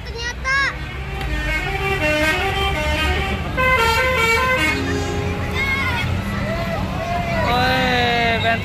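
A convoy of three buses sounds melodic telolet horns, bright overlapping tooting tunes playing almost continuously over engine noise and a noisy roadside crowd.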